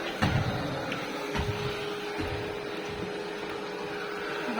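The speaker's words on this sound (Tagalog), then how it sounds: "Yan ang aming vacuum na bago." A new battery-powered vacuum cleaner runs with a steady motor whir and a faint constant whine, holding an even level throughout with a few soft knocks and bumps.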